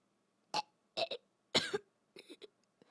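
A creature in an audio story coughs and chokes in a series of short, harsh, wet bursts spaced through the moment, with the third burst the loudest and longest and fainter hacking after it, and no speech over them.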